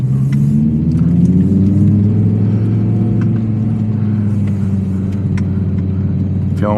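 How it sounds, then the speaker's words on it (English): A 2023 Audi R8 V10 Spyder with its naturally aspirated V10 in sport mode revs and drones loudly nearby, a rich steady growl with rising pitch sweeps and faint clicks, no talking. "Engine sound, sport."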